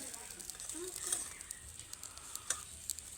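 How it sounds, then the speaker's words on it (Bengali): Fish dry-frying without oil in a pan on a low flame, heard as a faint, steady sizzle with soft scattered pops and scraping as the pieces are turned over, with a quiet voice speaking. "এইবার মাছগুলোকে উল্টে দেব।"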